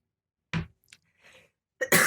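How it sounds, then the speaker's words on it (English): A person coughs hard several times after cocoa went down the wrong way, with short harsh bursts and gaps between them, ending in a louder fit. No speech is heard. "You're right there, you're going to cough up a lung."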